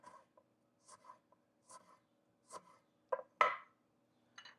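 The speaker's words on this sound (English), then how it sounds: "I'm cutting the ends off, cutting it down the middle," A knife cuts a lime into half moons on a cutting board, giving a series of soft, short, evenly spaced taps and slices, close and quiet against silence.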